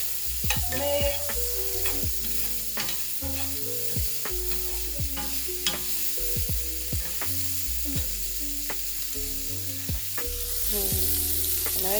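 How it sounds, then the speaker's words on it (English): Sausage sizzles loudly in a frying pan while being stirred, with steady crackling fat and repeated scraping and clanking of the utensil against the pan, close and continuous with no talking. "I'm about to give my sausage a good mix."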